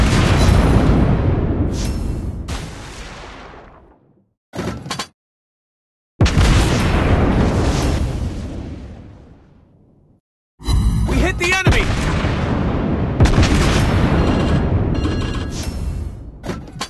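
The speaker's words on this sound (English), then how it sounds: "Enemy aircraft incoming! anti-aircraft gun on full alert." Naval and anti-aircraft gunfire in the World of Warships Blitz game, with the cruiser Worcester in action: long loud stretches of dense booming and bursting fire, broken by brief silences and a short clipped burst.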